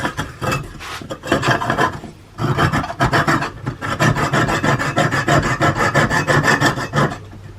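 A flexible hand saw cuts small wooden pegs on a wooden catch-all tray, with rapid rasping strokes in a steady back-and-forth rhythm and a brief pause near the start, close and loud with no voices.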